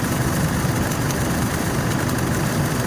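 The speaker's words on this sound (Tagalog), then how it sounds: "naka-idle pa lang yan mga kamaster, hindi pa hinihirit yung makina, idle pa lang yan" A Chevrolet Trailblazer engine idles steadily, a continuous low rumble with a constant drone and no revving, close and loud throughout.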